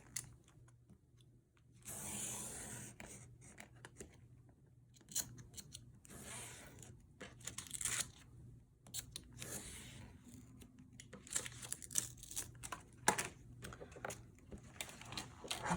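Craft knife or blade cutting through two book pages at once along a ruler for an altered book junk journal, a quiet series of scraping, clicking strokes with small taps, close and faint.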